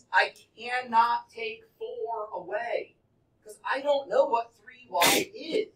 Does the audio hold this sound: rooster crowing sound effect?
no